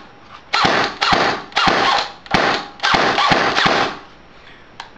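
A G&G GR16 airsoft rifle with blowback and an upgraded spring fires loud, close bursts of rapid mechanical cycling, about six in a row separated by brief pauses, with no talking.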